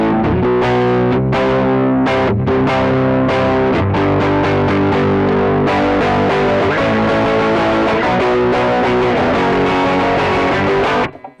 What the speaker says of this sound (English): So I just got rid of the reverb and added drive.